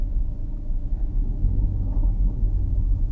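A car with an automatic transmission, driven by a beginner during a driving lesson, gives a steady low engine rumble as a little gas is applied, the hum holding near and even throughout with no voices.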